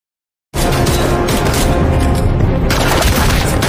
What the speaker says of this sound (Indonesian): Tak lama terdengar tembakan dari atas.